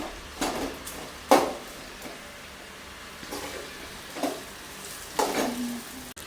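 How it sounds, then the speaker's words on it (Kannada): Sliced onions frying in a pan until light brown, a steady close sizzle broken by several clinking stirs of a spoon against the pan, with no voices. "ಇವಾಗ ಈರುಳ್ಳಿ ಸ್ವಲ್ಪ ಚೆನ್ನಾಗಿ ಫ್ರೈ ಆಗಿದೆ ಲೈಟ್ ಬ್ರೌನ್ ಕಲರ್ ಬಂದಿದೆ"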